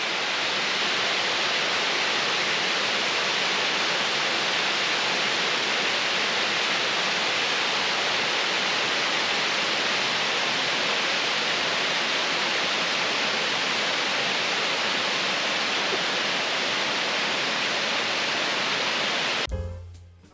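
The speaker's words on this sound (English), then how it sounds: "This braided cascade drops down a deep rock gorge and is famously framed by the massive peak of Mount Rainier in the background." Myrtle Falls, a braided cascade fed by Edith Creek near Mount Rainier, pours down a deep rock gorge in a loud, steady, unbroken roar that cuts off abruptly at the very end.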